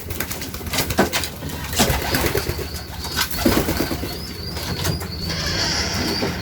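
Racing pigeons at a breeding loft coo steadily and close by, with layered throaty calls overlapping throughout, some faint higher chirps, and a brief flutter of wings in the mix.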